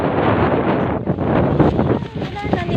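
Strong, gusty wind buffeting the microphone at an outdoor Sunday market, a loud roaring rush that swells and dips, with a voice talking over it.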